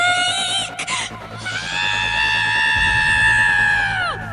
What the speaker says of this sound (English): Then we heard a pained scream from Mom's tent.